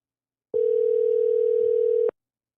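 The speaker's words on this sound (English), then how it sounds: "Gotta get Bill back on the goddamn phone" A telephone dial tone heard while calling someone back: one steady, loud continuous tone lasting about one and a half seconds, alone with silence on either side.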